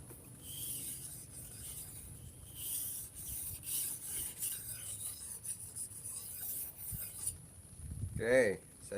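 A locally made bushcraft machete from Jepara is sharpened, with continuous close rubbing and rasping strokes that end in a brief scrape near the finish.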